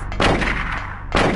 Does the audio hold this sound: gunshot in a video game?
yes